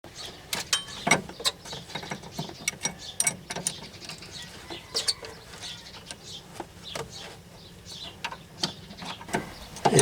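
Wrench clicks and scrapes while loosening a power steering cooler line fitting, a string of sharp irregular metallic ticks, some in quick bursts, close and moderately loud with no talking.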